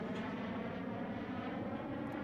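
Avro Vulcan bomber flying overhead, a steady, loud broadband engine roar that holds evenly throughout without breaks.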